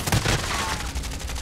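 Gunfire in the battle royale game Call of Duty: Warzone, a loud burst of rapid shots and crackling fire with a trailing whine, continuous for the whole short stretch.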